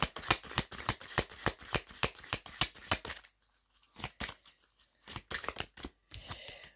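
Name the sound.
shuffling tarot cards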